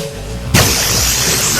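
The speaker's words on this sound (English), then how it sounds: "Ball lightning." A ball lightning spell effect in the video game Shadowrun Returns starts with a low rumble, then bursts into a sudden, loud crackling whoosh that sustains for over a second.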